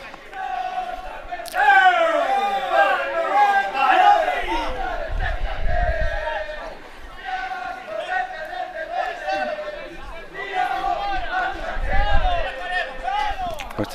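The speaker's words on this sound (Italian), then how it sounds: "Questi sono i tifosi dell'Arzachena, come sentite in sottofondo" Arzachena football fans in the stadium chant and cheer, a continuous crowd roar with swelling sung phrases, while a commentator talks over it.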